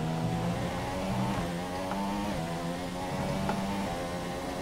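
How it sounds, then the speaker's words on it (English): A Formula 1 car engine from the F1 2017 racing game drones steadily at the Spanish circuit, a rough, faint buzzing tone with wavering pitch that sounds faulty, continuous throughout. "Yeah, the engine does not sound right."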